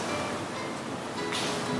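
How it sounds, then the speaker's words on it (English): Tap water pours steadily into a measuring container for vegan macarons, a continuous close rushing wash that swells louder near the end, with no talking. "So I do have some tap water here. We're going to measure out, we want our 500 mils."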